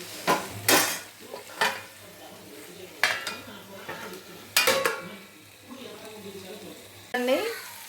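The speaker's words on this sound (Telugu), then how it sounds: "దీని మీద ఇప్పుడు మూత పెట్టి కొంచెంసేపు మగ్గనివ్వండి" A lid clanks onto a pan of sizzling capsicum fry. A few metallic knocks and scrapes sit over a soft, steady frying hiss, and a brief voice is heard near the end.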